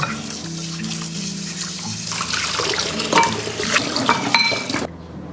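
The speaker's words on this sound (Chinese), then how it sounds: "接着我们把猪蹄给它清洗干净，我买的是1根猪蹄。" A pork trotter is rinsed under a running kitchen tap for a trotter and eel soup, with a steady stream of water splashing into the sink and soft handling clatter near the end before the flow cuts off.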